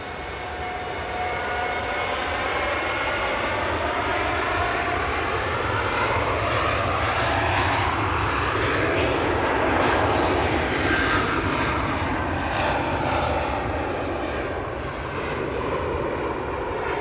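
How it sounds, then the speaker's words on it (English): A Qatar Airways airliner departs Manchester Airport with a sustained jet roar whose sweeping tones shift as it passes. The noise builds gradually, peaks past the middle, then eases slightly. No one speaks. "Beautiful departure there from the Qatar."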